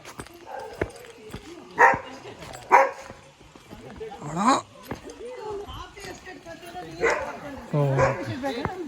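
Dogs, including a German Shepherd cross, bark several times in short bursts at an areca nut estate, some loud and close, mixed with people talking nearby.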